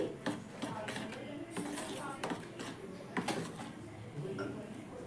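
Batter being mixed after salt is added produces quick, light clinks and scraping taps in a bowl, running under a person speaking.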